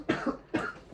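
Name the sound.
cough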